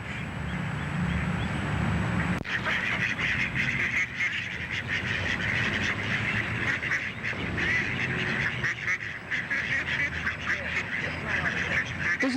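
A flock of ducks being fed corn keeps up a steady, dense chorus of quacks and honks nearby, continuous throughout with no pauses.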